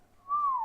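A person whistles a single sustained, gently sliding note, imitating the voices of the Clangers, the puppet creatures. It is brief, close and clear, with no talk alongside.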